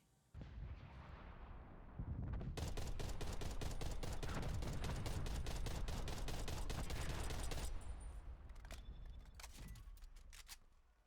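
A Type 63 DMR rifle fires in a video game: a rapid string of sharp, evenly spaced shots over a loud, dense roar lasting several seconds, then a few quieter mechanical clicks and handling sounds.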